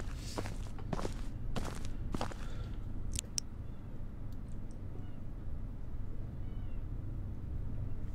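Kittens meow in the Paranormal HK horror game: a few short, high mewls come after some quick footsteps, faint and isolated against a low background hum.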